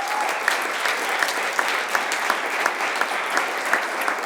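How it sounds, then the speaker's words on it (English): Steady applause from a seated audience at a high school college signing ceremony for a softball pitcher, continuous clapping with no voices, moderately loud and evenly sustained throughout. "So a big round of applause for Maddie,"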